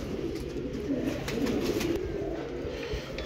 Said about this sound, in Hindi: ये मीनार वाली कबूतरी है और ये बड़े कल्लू की बेटी है।